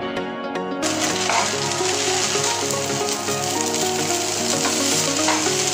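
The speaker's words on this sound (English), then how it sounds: "Stir it well so that the ingredients mix properly with the spaghetti." Stir-fried chow mein spaghetti with tomato sauce in a pan, steady loud sizzling with rhythmic scraping as the noodles are tossed, close up.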